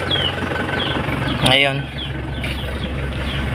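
A 2003-model vehicle's engine idles steadily close by, a low continuous rumble that runs alone except for one brief spoken word midway.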